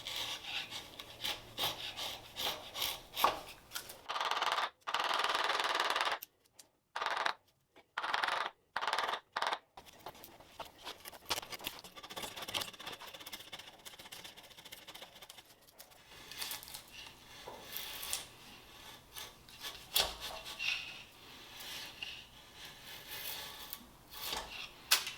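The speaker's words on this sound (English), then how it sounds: "I also love the sound of a sharp chisel cutting wood" A sharp chisel pares and scrapes across a block of wood up close, giving repeated rasping strokes broken by brief quiet pauses, with no talking.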